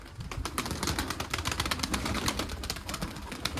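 A small coop of pigeons, including two old Mardin-lineage birds, fills the air with steady close-range rustling, scratching and fluttering, with dense clicking and tapping throughout and no talk.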